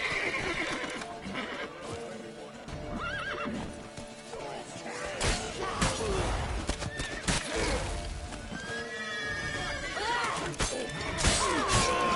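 Horses whinny loudly and hooves clop during a chaotic action scene in The Witcher III: Wild Hunt, with crashes and shattering, shouting voices, and repeated neighs rising over the commotion.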